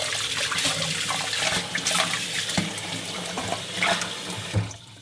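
Tap water runs steadily into a sink while pork bones for gamjatang are rinsed one by one, a close, continuous splashing with occasional clinks and knocks.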